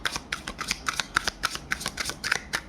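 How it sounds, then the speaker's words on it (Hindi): Tarot cards riffled and shuffled by hand, giving a rapid run of crisp papery flutters and snaps in quick bursts, close and clear with no talking. "एक काम करते पहले कार्ड शफल कर लेते, फिर मैं आपको एक्सप्लेन करती हूँ।"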